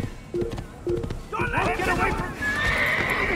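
Horse in Assassin's Creed whinnying loudly after a few hoof clip-clops, the neigh rising and sustained over other game sounds, with a voice speaking.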